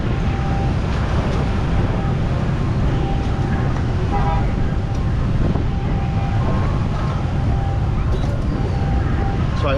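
Strong wind buffets a microphone outdoors at a street food spot, a steady broadband roar lasting throughout with faint traffic tones and background murmur beneath it.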